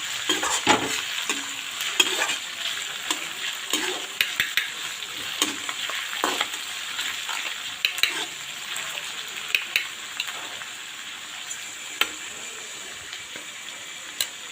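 Ginger, garlic and chili paste fries in a pan for chicken curry, giving a continuous sizzle with frequent stirring scrapes and taps. There is no talk.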